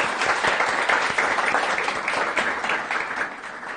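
An audience at a Turkish television program on emotional education breaks into dense, sustained applause, loud and even throughout as performers are welcomed on stage.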